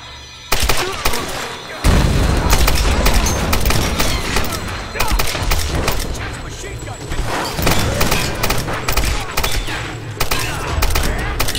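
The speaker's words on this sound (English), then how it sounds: "I have a machine gun now. Oh, you want to send me some fire?" Sustained, loud machine-gun fire from the Tomb Raider video game, a dense, continuous rattle of shots with heavy low thumps. It runs for most of the stretch with hardly a gap.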